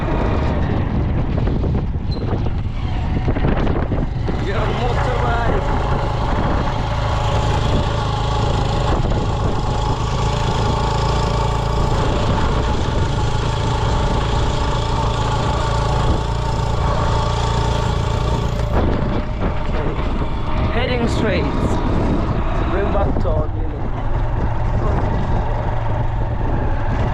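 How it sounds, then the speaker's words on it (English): A motorbike engine drones steadily and loudly throughout, with wind rushing over it and a brief drop in the roar near the end, no voices. "You're on motorbike."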